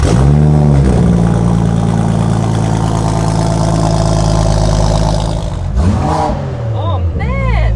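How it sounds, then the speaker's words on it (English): A concept car's engine revving hard through its exhaust, a loud, close roar that holds high before dropping away, followed by sharp throttle blips rising and falling, with excited voices reacting near the end. "I think everyone just wants to hear what it sounds like, right? Because we do. The exhaust is on that side."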